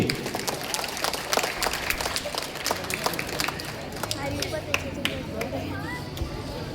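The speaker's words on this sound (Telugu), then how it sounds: "అందరూ క్లాప్స్ గట్టిగా కొట్టాలి." Audience at a Sankranthi rangoli contest gift ceremony claps steadily, a dense wash of applause from a crowd, with voices talking over it throughout.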